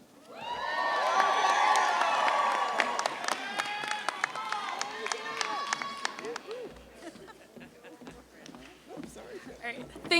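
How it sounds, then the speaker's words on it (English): A crowd at a UCLA School of Nursing 2019 commencement performs the traditional UCLA 8 clap, with loud cheering and a rhythmic burst of claps, then scattered sharp claps as the noise thins, voices mixed in. "UCLA 8 clap."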